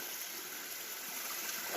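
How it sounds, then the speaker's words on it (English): Running water from a stream at a trail crossing on the Benton MacKaye Trail near Big Fat Gap, a soft, steady rush with no voices. "running stream crossing, and there's plenty of good water here"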